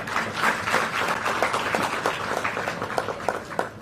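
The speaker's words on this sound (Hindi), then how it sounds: "तालियां हो जानी चाहिए।" An audience applauds at a state-level award ceremony honouring UPSC and IIT-JEE qualifiers. The clapping is dense and sustained, with scattered sharp claps in a large hall and no voices.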